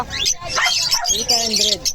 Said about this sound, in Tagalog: So, yan yung mga ibon ni Sir PJ